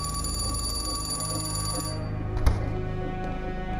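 Telephone ringing indoors, a steady electronic ring tone that cuts off partway, followed by a brief click.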